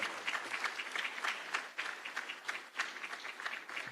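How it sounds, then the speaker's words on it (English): Sustained audience applause at an investment conference welcoming a head of state, a dense, even patter of many hands clapping for the whole stretch with no voices over it. "Why don't we welcome him with a warm clap?"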